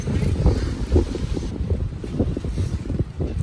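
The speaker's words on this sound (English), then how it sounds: "The wind is so loud right now, and yet we're not moving that much." Loud wind gusts and roars around a catamaran lying at anchor in Turkey, a continuous heavy rush of air buffeting the microphone with no voices.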